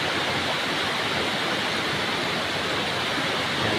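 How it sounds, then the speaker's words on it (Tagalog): Water falling into a pool at a bathing spot at the far edge of a village, a loud, steady broadband rush that fills the whole clip with no voices. "May mga lumalagas na sa tubig guys"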